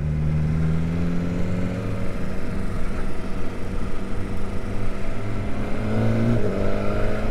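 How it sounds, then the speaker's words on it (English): A BMW S1000R motorcycle rides with a loud, steady engine drone and wind noise, its pitch climbing as it pulls through a quick-shifter change into third gear. "Straight into third on quick shifter."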